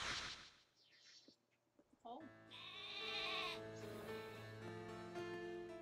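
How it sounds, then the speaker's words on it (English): A bleating cry from a sheep Pokemon in the video game Pokemon Sword, a sustained wavering tone after a short quiet stretch, loud and close, with softer game sounds before it. "The sheep Pokemon, would you want one?"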